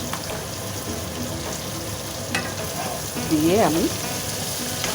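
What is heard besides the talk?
stirring jackfruit and potato curry in a pan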